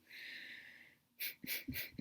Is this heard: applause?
no